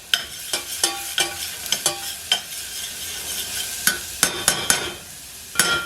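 Two cloves of chopped garlic frying in a pan for a vegan moussaka sauce, a steady sizzle broken by repeated sharp clicks and scrapes of a utensil stirring against the pan.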